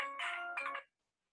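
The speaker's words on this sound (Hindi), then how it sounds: "आज फोन के ऊपर फोन आ रहा है" A phone ringtone plays a bright electronic melody: two short bursts of chiming tones, fairly faint, then sudden silence.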